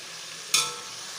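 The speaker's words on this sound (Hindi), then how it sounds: "ये प्याज हमारी फ्राई हो रही है।" Onions fry in a pan while making malai kofta biryani, giving one short, soft sizzle burst that fades quickly over a quiet background.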